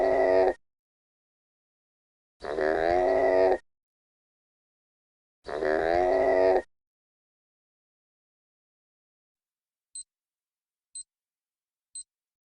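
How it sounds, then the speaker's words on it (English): A llama utters three drawn-out, buzzing, tonal calls separated by long pauses, loud and close, followed by three faint evenly spaced ticks. "Llama."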